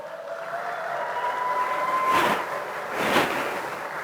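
Audience clapping during an Onam inauguration event, swelling in two broad noisy bursts over a steady hall murmur, moderately loud with no speech on top.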